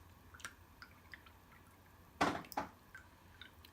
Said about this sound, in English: Doing my second rinse on my brush.